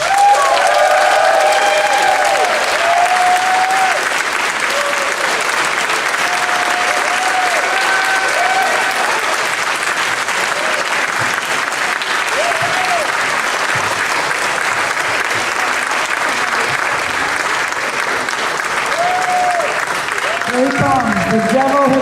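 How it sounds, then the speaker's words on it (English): Sustained applause from a theater audience greeting horror filmmaker Coffin Joe (Zé do Caixão) at a film introduction, a dense steady wash of clapping throughout with a few faint voices mixed in. "Everybody keep your applause coming."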